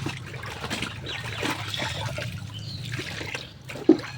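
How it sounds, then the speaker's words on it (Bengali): Items are rinsed by hand in water in a tub, giving soft continuous sloshing and trickling with a brief louder splash near the end, fairly close and without talk. "এগুলো ধুয়ে নিচ্ছি আরেকবার ধুয়ে নিব"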